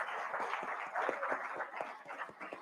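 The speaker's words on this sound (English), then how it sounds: "Please give them a round of applause." An audience at a town hall on second chances claps in a lively round of applause, close and dense, with individual hand claps standing out through the steady wash.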